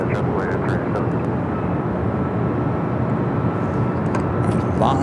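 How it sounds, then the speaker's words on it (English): LATAM Boeing Dreamliner airliner lining up on runway 24 left at LAX, bound for Santiago, Chile: a steady loud jet engine roar with constant rumble throughout, faint radio chatter in the background. "Latam, the Dreamliner, heading to Santiago, Chile, lining up 24 left."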